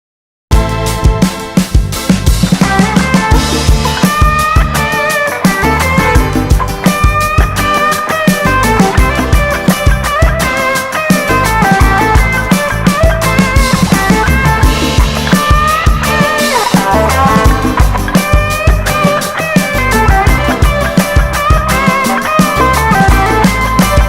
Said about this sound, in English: that's kind of the electric guitar tone that I thought was pretty fun